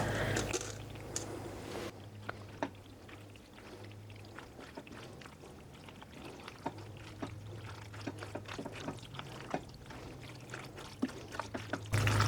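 Cooked, drained pasta noodles, about eight ounces, dropped into a hot pan, giving a run of soft wet plops and light clatter with a brief pouring rush near the start, close and moderately quiet.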